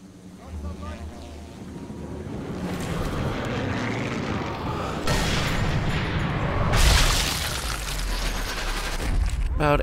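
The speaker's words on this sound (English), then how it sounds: "How frequent are those planes?" Propeller aircraft flying overhead in the war video game Sniper Elite 3, a broad droning engine roar that swells loudest midway and stays steady behind a dense ambient game soundscape.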